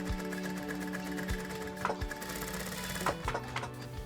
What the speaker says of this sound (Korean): 둔탁하지만 나름의 장단에 맞춰 돌아가는 재봉틀 소리마저도 정겹게 느껴지는 교동시장입니다.